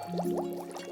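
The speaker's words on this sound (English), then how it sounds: "bubbles of air escaped from his snorkel" A burst of air bubbles escaping from a snorkel underwater, a short run of rising bubbly gurgles over a steady tonal hum.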